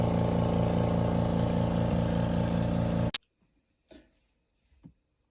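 ZENY portable twin tub washer's spin dryer running with a loud, steady humming whir and faint rhythmic pulsing for about three seconds, then cutting off abruptly into near silence with a couple of soft knocks.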